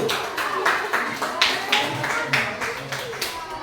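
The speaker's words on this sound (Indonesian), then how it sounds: "Tepuk tangan dulu untuk kelompok 1." A classroom of students claps for a presenting student group, a burst of scattered hand claps with some talk and voices mixed in underneath.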